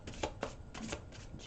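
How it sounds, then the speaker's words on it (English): Angel oracle cards are shuffled by hand during a tarot reading, a quick run of papery riffling bursts that repeat in a loose rhythm, close and clear, with no talking. "I'm shuffling these angel cards."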